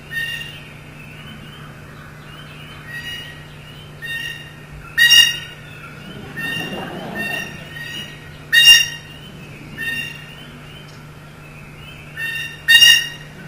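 A blue jay gives harsh, squawking calls in short separate bursts every couple of seconds, some loud and close, others fainter. A steady low hum runs underneath.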